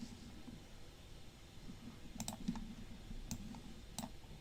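Computer mouse clicks during desktop editing work, a few sharp faint clicks in close succession with a double click near the end, over a low steady room hiss.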